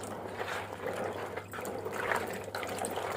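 Water is poured off lemons as they are washed, giving a soft, continuous splashing trickle at moderate distance with no voices.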